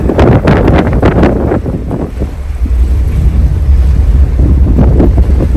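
On the deck of a ferry, strong wind buffets the microphone in loud, rumbling gusts, with a low roar of the boat and water underneath and no talking.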